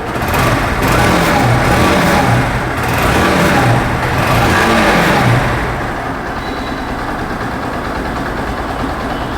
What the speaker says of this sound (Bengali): বাইকের সাউন্ড কিন্তু খুবই স্মুথ আছে